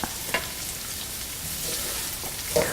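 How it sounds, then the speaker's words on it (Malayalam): Chopped onions sautéing with salt in a pan for kada roast give a steady, close sizzle with a few stirring scrapes and clinks at the start and end, and no voices. "എടുത്തു വച്ചിരിക്കുന്ന സവോള, ആവശ്യത്തിന് ഉപ്പ് എന്നിവയിട്ട് നന്നായിട്ട് വഴറ്റിയെടുക്കുക"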